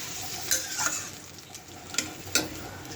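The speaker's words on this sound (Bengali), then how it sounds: "মাংসটা কষতে থাকুক" Meat sears in oil in a wok with a soft continuous sizzle, punctuated by several sharp scraping clinks as a spatula stirs and knocks against the pan at irregular intervals, close up and without talk.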